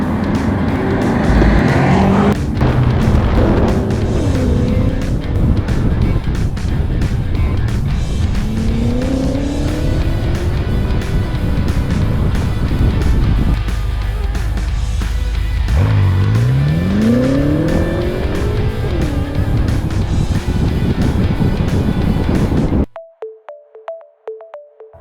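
A 2014 BMW M6 accelerating hard in sport mode, engine revving and climbing through gears with shifts between pulls and brief tire squeal, loud and close for most of the stretch before cutting off abruptly.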